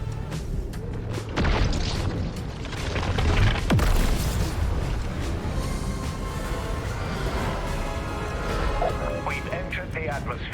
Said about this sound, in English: Now you can fire orbital cannons down towards the map and straight up annihilate people.